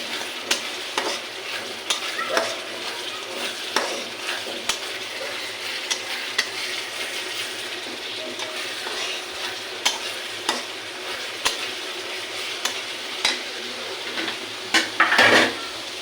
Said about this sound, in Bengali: আমার মশলাটা কষানো হয়ে গেছে